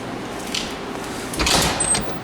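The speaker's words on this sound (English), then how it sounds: "Doors opening." Doors of a KONE traction elevator slide open, with a soft mechanical rumble and whoosh rising midway and fading back to a low hum.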